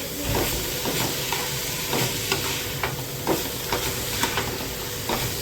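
Vegetables with salt and sauce are stir-fried in a pan, giving a continuous sizzle broken by repeated scraping strokes of a spatula at a steady rhythm.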